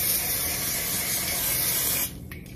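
Cooking spray hissing steadily from a can onto a pan in a home kitchen, one continuous loud close spray lasting about two seconds before cutting off to quiet room noise.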